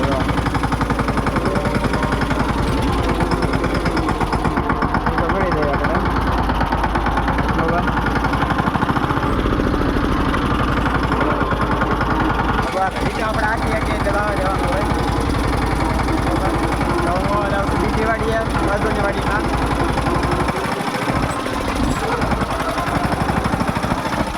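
A tractor engine runs steadily throughout, a continuous low, rough mechanical drone close by with voices talking over it outdoors in the evening.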